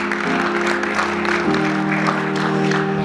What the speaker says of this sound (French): Ces acclamations-là